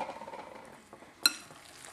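Spoon stirring eggs into a salmon patty mixture in a small bowl, a soft, quiet wet churning with faint clinks and one sharper knock against the bowl's side.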